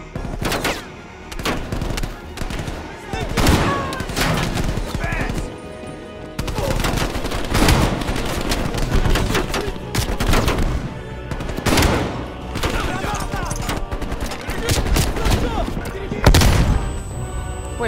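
Sustained automatic fire in Call of Duty: Black Ops Cold War, long loud bursts of shots mixed with heavier booms and thuds, while someone talks over the shooting now and then.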